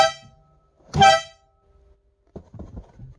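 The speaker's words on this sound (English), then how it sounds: "It's a pedal-powered air horn." A pedal-powered air horn fitted in a 2008 Smart Fortwo Passion Cabriolet sounds from inside the car: the fading tail of one blast, then a second short, bright honk, followed by faint rustling and muffled noises.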